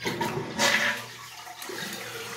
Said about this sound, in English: I'll give this thing a last flush for the goodbye